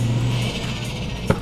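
Ford Focus RS MK2 with a turbocharged five-cylinder engine on a pop and bang map, a steady close engine drone with one brief sharp pop near the end.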